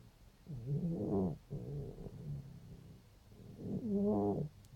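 A cat five days after laryngeal tie-back surgery breathes in a labored, rasping way, with two long noisy breaths and a softer one between, close and steady, with no talk.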